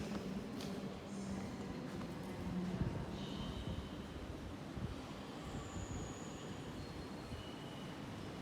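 A train passing through St James underground station in Sydney, a steady, fairly quiet rumble of wheels and carriages that holds evenly throughout, with faint metallic squeals and hiss over the top.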